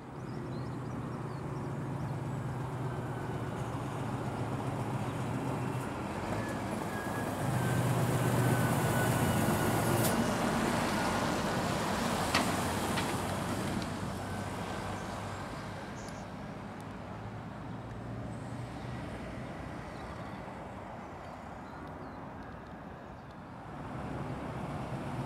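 Heavy freight trucks pass on the A14 road at Rothwell, producing a continuous broadband roadway roar that swells as a vehicle goes by and then fades back, with wind buffeting the microphone and no voices.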